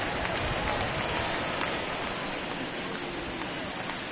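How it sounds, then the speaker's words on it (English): Steady rain falls over an outdoor baseball game between the Rangers and Yankees, a dense, even hiss of drops filling the scene at constant loudness, with faint crowd murmur underneath. "we've mentioned the conditions aren't ideal with the rain coming down"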